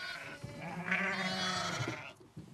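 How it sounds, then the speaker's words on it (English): A single sheep lets out a long, wavering bleat up close, lasting about two seconds, on a UK farm during lambing season in spring. "Sheep produce lambs only once a year, and in the UK, this naturally falls around springtime."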